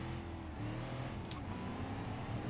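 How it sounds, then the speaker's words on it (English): A rumbling old hot rod car engine in the video game BeamNG.drive drones steadily at a low pitch, loud and close, with no voices over it. "this must be a hot rod, because it sounds beastly"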